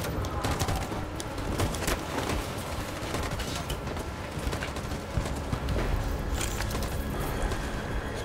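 Rapid gunfire rattles through a firefight in the video game Detroit: Become Human, dense and continuous bursts layered with action noise and no clear speech.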